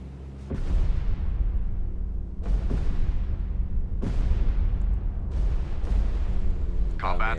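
Depth charge explosions in a destroyer U-boat hunter video game, four heavy booms about every 1.7 seconds, each with a long rumbling decay, and a voice briefly at the end.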